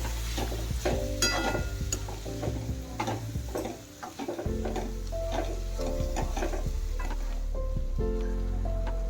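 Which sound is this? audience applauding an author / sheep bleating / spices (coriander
spices (coriander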